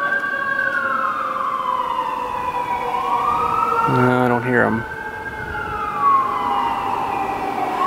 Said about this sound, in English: that high-pitched wail of the sirens there freaks them out a little bit sometimes